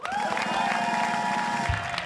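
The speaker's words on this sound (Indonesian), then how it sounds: "Tepuk tangan buat Danang dong." A studio audience claps and cheers briefly for a male contestant leading the first round of a TV singing game show, with a sustained musical tone from the set sounding underneath the short burst.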